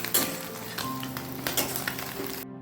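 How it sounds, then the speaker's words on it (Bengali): Small fish fry in oil in a wok, crackling and sizzling close by with a few brief clinks of a utensil and no talk. "এই দুটো কড়াতে একসাথে মাছ ভাজা হচ্ছে"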